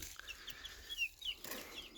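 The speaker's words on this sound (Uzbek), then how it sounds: "Oqlari Legoron. Bu tuxum yo'nalishida oqlari. Legoron." Leghorn chicks, white egg-laying birds about 26 to 27 days old, give a few short, thin, high-pitched cheeps and clucks close by against a soft background hiss, with no talking.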